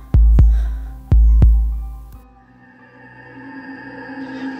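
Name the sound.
fast heartbeat sound effect in horror story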